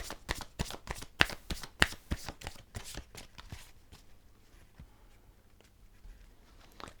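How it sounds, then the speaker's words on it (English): Tarot deck being shuffled by hand, a rapid run of crisp close card riffles and slaps that fades after about four seconds into quieter scattered handling sounds, with no speech. "Want to give them a bit of a shuffle."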